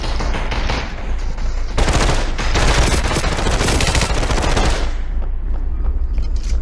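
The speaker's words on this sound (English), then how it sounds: "there's another guy shooting?" Rapid automatic gunfire rattles through a video game firefight, with dense bursts overlapping for several seconds, loud and close, then thinning out toward the end.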